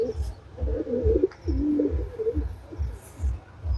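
A female Indian pigeon coos in a soft, repeated rhythm of low throaty pulses, close by and fairly quiet, with faint background noise between calls.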